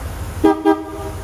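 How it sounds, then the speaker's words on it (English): Two short horn toots from a 1963 Lincoln Continental in quick succession, close and clear, followed by a brief lingering tone against quiet background noise. "Let me give you a little honk of the horn."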